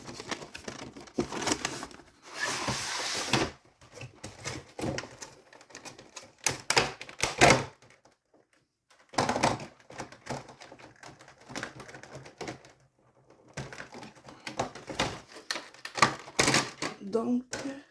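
A small pack of Pokémon cards from a Mewtwo V Union Box being opened, with close crinkling foil and rustling wrapper bursts in irregular spurts separated by brief pauses, plus occasional soft spoken French.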